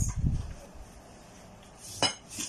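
Caramel mixture is transferred into a Pyrex dish, with a few clinks and scrapes of utensil against glass at the start and a sharper clink near the end, otherwise quiet, no talking.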